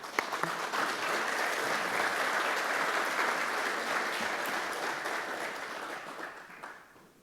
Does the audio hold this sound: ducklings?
no